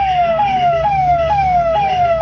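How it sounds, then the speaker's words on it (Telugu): An ambulance siren wails on the road, loud and near, repeating a falling tone about every half second over steady traffic rumble, with no talking. "అంబులెన్స్ పోతా ఉంటుంది, సైరన్ పోతుంది"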